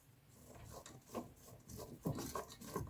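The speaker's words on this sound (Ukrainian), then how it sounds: "Перемішую, щоб не прогоріло." A spoon scrapes and stirs frying carrot, onion and sliced sausage in a pot for soup, giving soft, irregular rubbing and scraping strokes over a faint sizzle, quiet and close.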